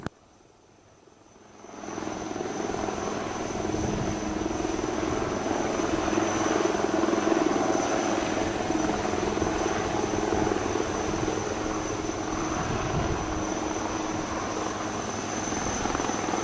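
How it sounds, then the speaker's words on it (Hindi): A steady, loud UH-3H Navy helicopter rotor drone fades up after a quiet start and holds continuously over a Navy Day display at Visakhapatnam beach, with a thick low rumble and a high whine on top. "you can also see the UH-3H helicopter providing air cover to the Marine Commandos"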